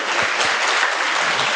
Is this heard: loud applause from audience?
yes